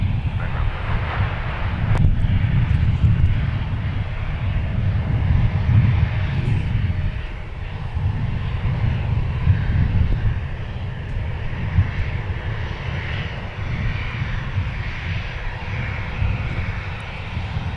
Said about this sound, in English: just crossing the runway here in front of us is Delta 2927 headed to Denver. A321.